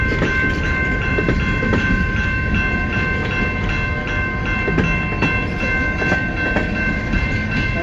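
A long CN freight train rolls steadily past at South Rockwood, its wheels clicking rhythmically over rail joints amid continuous loud rumble and metallic squeal, with no talk.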